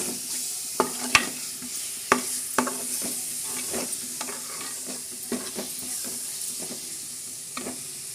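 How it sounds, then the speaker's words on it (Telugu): Onion paste fries and browns in a pan for a Godavari-style fish curry, a soft continuous sizzle punctuated by sharp spoon clinks and scrapes as it is stirred, close and without talk. "ఉల్లిపాయ పేస్ట్ బ్రౌన్ కలర్ బాగా వచ్చిందండి. బాగా ఫ్రై అయిపోయింది."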